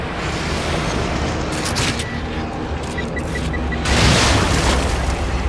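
A rumbling explosion booms in The Evil Within video game, a dense, loud wash of noise with a sharper burst swelling near the end, mixed with other game sounds.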